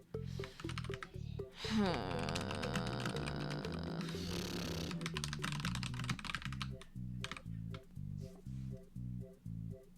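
Rapid keystrokes clatter on a computer keyboard in irregular bursts, close and fairly loud, with a voice talking over the typing.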